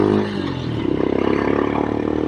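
Royal Enfield Scram 411 motorcycle fitted with an AEW Thunder Pipe exhaust, its engine revving up into a loud, rapid, throbbing burble, close by with no talk.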